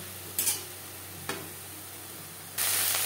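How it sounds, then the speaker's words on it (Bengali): Onion frying with ginger, garlic and green chilli paste in a pan, a quiet steady sizzle broken by a few sharp stirring scrapes and bursts, the last one louder and sustained. "3-4 মিনিট পেঁয়াজের সাথে মশলা ভেজে নেওয়ার পর"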